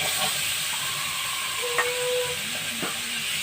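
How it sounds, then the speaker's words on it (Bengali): Chicken curry meat is stirred in a pan over steady sizzling and hissing, with a couple of brief scraping strokes from the spoon against the pan; close and continuous, with no talking. "আমি এখন একটু মাংসটা একটু নেড়ে চেড়ে দিচ্ছি"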